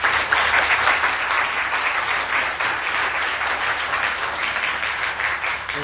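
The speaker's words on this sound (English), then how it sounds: "Let's give them applause." A conference audience applauds in a large room, a dense, sustained wash of many hands clapping at steady loudness for about six seconds with no talking over it.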